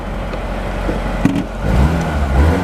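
A 1962 Mercedes-Benz 190SL Roadster with a new muffler driving along, its engine giving a low steady hum that swells slightly as it pulls, with a brief knock partway through.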